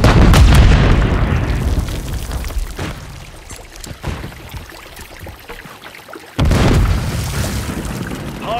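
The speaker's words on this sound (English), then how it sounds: "Throwing a stun grenade!" A stun grenade going off in a Call of Duty match: a heavy, booming blast that rolls and fades over a few seconds, then a second loud burst of noise, with no talk.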